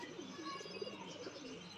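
Soft pigeon cooing, low and gentle, repeats a few times over a quiet background murmur.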